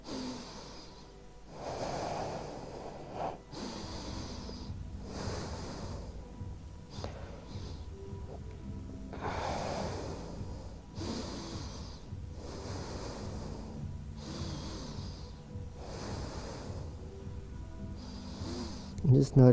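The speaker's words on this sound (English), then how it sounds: "Hold here for at least 10 beautiful deep breaths." Slow, deep breaths during a yoga hold, each long inhale and exhale a soft airy rush repeating every few seconds, close and quiet, with an instructor's voice faintly underneath.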